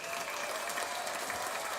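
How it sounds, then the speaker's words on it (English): A studio audience at The Power Hour claps in a dense, even patter of many hands, heard a little distant and on its own for under two seconds. "a round of applause for you for showing up and showing it"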